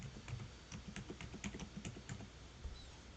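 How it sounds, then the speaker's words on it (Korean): A password is typed on a computer keyboard in rapid, uneven keystrokes, soft and close in a quiet room, with no one talking. "영어와 숫자를 포함하셔서 암호를 입력해 줍니다"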